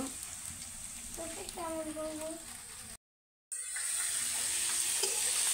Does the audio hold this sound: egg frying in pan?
yes